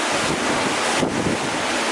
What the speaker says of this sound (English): All this weather that's been in these videos, these waves splashing as high as they are,